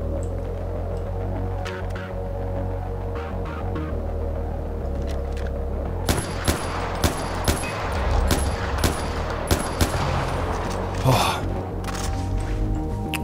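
Gunfire in Far Cry 4: a low droning hum runs throughout, then from the middle a series of sharp, evenly spaced shots cracks out at moderate distance, with no talking.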